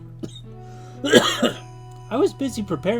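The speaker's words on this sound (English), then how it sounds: "That cough wasn't part of the act." A single short cough from a character in the video game Phoenix Wright: Trials and Tribulations, followed by a voice speaking close up.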